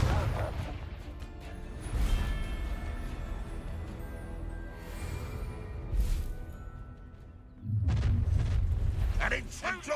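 Confringo blasting curses detonate during a Hogwarts Legacy duel, giving loud booming bursts with crackling fiery tails, including a heavy, rumbling blast near the end, amid other spell effects.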